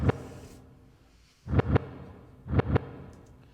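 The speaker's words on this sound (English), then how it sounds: "The reverse kick sounds like this." Kick drum hits played backwards swell up from silence and cut off sharply, arriving in pairs with soft sucking, whooshing build-ups.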